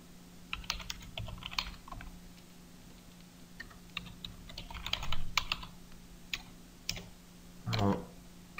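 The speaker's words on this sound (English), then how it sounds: "and then we type" Keys tapped on a computer keyboard while entering a custom Excel function, irregular bursts of clicks with pauses, close and fairly quiet, ending in a louder cluster of keystrokes.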